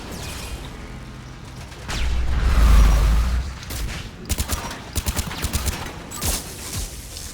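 A weapon firing in Mass Effect: a deep rumbling charge-up swells, then a quick cluster of sharp, loud shots rings out over a low mechanical hum, with no voices.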